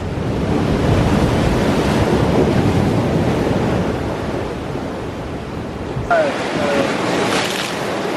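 Ocean surf on a California shore roars as broad, loud noise buffeted by wind on the microphone, swelling then easing before a sudden drop to quieter wash near the end.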